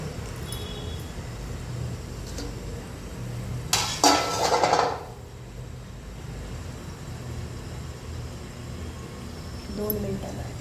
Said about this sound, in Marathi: असं एक छान त्याच्यावर असं प्लेट झाकायचं